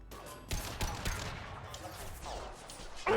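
Gunfire in Mass Effect Legendary Edition: several sharp shots, some in quick bursts, fairly close, over a low rumbling battle background, with a louder burst at the very end.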